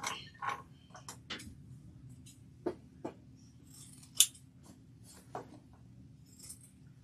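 Scissors trimming fabric while sewing a quilted shoulder bag: a sparse series of crisp, close snips spread irregularly over a quiet background.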